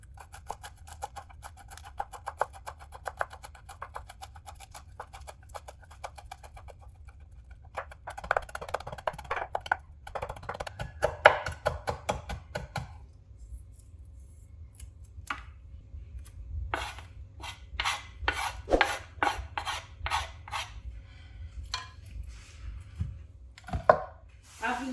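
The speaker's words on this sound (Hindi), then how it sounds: "हरे धनिया को भी हम ऐसे बारीक बारीक काट लेंगे" A knife finely chops fresh green coriander on a cutting board in rapid, rhythmic taps, with bursts of quick strokes separated by short pauses, close and crisp against a quiet room.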